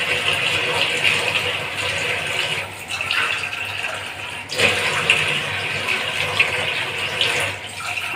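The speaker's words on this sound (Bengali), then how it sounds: "এর মধ্যে পরিমাণ মতো জল দিয়ে দিলাম।" Water poured into a pot over chopped jackfruit for boiling, a loud continuous splashing stream with a brief break midway before it resumes, heard alone.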